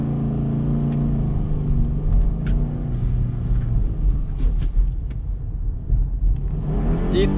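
A manual stick-shift car pulling away as the clutch is let out slowly, a close, steady engine drone with rising and shifting tone and a low rumble, running without a break.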